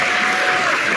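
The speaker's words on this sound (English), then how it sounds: "let's give a big round of applause to all of the veterans that" Audience applause for veterans at a school Veteran's Day program, a steady, dense wash of clapping filling a brief moment without any pause.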